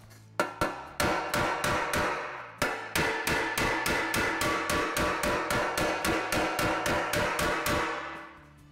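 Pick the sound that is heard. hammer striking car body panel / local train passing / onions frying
hammer striking car body panel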